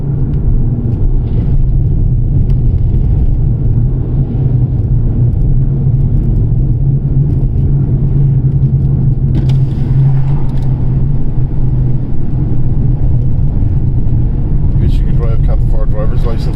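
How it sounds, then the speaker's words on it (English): A car driving on the road between Dublin and Mayo, making an unusual noise: a loud, steady low rumble of engine and road that continues without a break throughout. "not like the noise my car is making right now."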